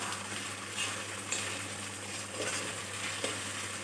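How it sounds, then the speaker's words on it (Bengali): Onion fries with ginger garlic paste in a pan for egg pulao, a continuous close sizzle with occasional soft scraping as it is stirred. "আদা রসুন পেস্ট পেঁয়াজের সাথে ভাজলে পেঁয়াজটাও তাড়াতাড়ি গলে যাবে।"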